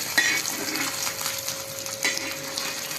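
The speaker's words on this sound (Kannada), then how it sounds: "ಈ ಥರ ಫ್ರೈ ಮಾಡ್ಕೋಬೇಕು" Fish and tomato fry together in a pan with a moderate close sizzle, accompanied by occasional utensil scrapes and clinks against the pan, without speech.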